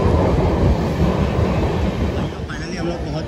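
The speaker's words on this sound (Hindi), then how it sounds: "फाइनली हम लोग पहुँच चुके हैं कल्याण में, और ये लोकल ट्रेन है भाई" A Mumbai local train arrives at Kalyan station, loud rumbling and rattling of the carriages close by, easing slightly toward the end with a faint high squeal.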